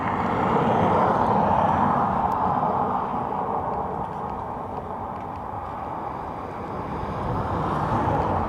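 An ATR turboprop from Birmingham at Dublin Airport produces a broad, continuous roar that dips slightly in the middle and swells again, with no voices.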